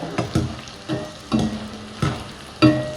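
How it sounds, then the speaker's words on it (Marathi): Edible gum pieces frying in hot oil in a kadhai for laddoos, a steady sizzle broken by repeated bursts of crackling and stirring roughly every half second to second, close and fairly loud with no talking. "आता हा थोडा थोडा डिंक तळून परत मिक्सरमध्ये त्याची पूड करून घ्यायची"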